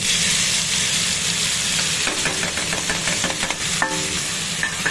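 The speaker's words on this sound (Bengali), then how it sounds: "মাছগুলো আমি ভালো করে একটু কড়াতে ছড়িয়ে দিচ্ছি" Fish pieces fry in hot oil in a wok over a lowered flame, making a loud, dense, steady sizzle with bursts of crackling and a few spatula scrapes, and no one speaking.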